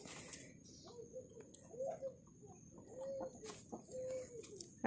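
A hen clucks in soft, drawn-out calls spaced a second or so apart while dust-bathing outdoors, near but fairly quiet over a low steady background hum.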